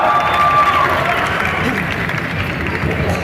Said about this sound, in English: a round of applause for our honey bunny, Varun, Dhawan and Samantha